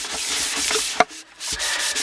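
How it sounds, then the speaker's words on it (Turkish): Sandpaper rubs steadily back and forth over the plastic lens of a Volkswagen Transporter T4 tail light, a close, continuous scratchy rasp with a short pause around the middle; no voices. "Şu şekilde ben bunu zımparalayacağım."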